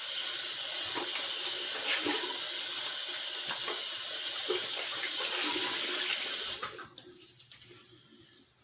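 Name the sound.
cold water running from sink tap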